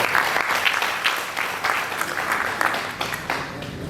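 An audience at a meeting of the All India Rail Safety Council claps steadily, a dense, even wash of applause filling the room from start to finish.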